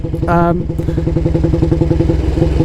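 A 1938 AJS Model 22 250cc single-cylinder motorcycle idles close by with a loud, steady, even thumping beat that continues throughout, and a brief voice-like sound rises over it near the start.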